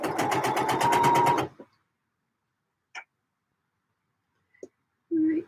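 A sewing machine stitches a trousers crotch seam in a fast rhythmic burst for about a second and a half, then stops, followed by a few scattered clicks and a short restart at the end.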